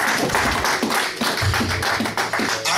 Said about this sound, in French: Applaudissez pour la gloire.